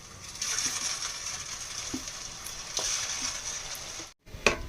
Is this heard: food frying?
yes